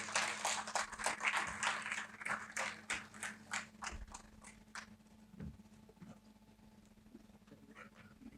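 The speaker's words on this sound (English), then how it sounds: "Let's welcome them with a round of applause." A seminar audience gives a round of applause as panelists take their seats on stage, a sparse, uneven scattering of individual claps that is strongest at first and then thins out to a few isolated claps over a low hum.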